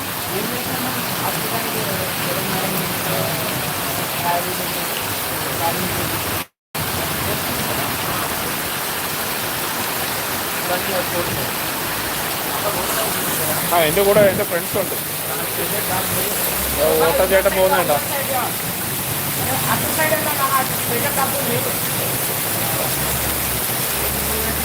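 Steady roar of heavy rain and rushing floodwater fills a Hyderabad street, close and continuous with a brief dropout early on, as someone speaks briefly over it and other voices rise later.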